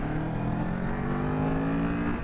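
Kawasaki Z650 motorcycle engine revving with a raspy exhaust, a brief steady mid-pitched drone heard fairly quietly, no voices over it.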